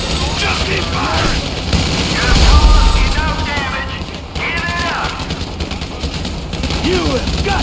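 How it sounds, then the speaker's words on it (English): Dense gunfire during a bank robbery shootout at Paleto Bay in Grand Theft Auto V, loud continuous shots and booms layered under shouting voices and mechanical noise. "Just keep firing!"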